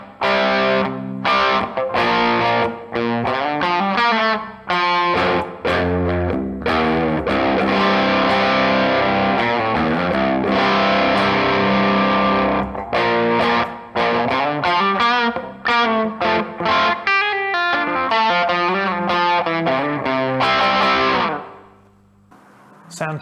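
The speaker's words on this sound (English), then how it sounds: "Sound 2 is my drive tone, my overdrive tone." Electric guitar through an overdrive pedal with a thick overdriven tone plays chords and riffs continuously, loud and sustained, ending with a brief fade.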